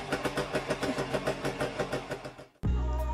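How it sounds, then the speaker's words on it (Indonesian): A motorcycle engine revs in rapid rhythmic pulses, loud and close, then cuts to a steady, louder roar near the end. "suara motornya kayak suara motor racing"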